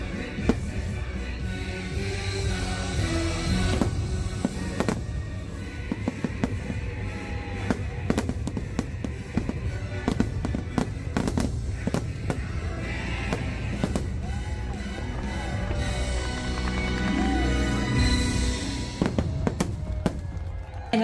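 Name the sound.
Disney fireworks show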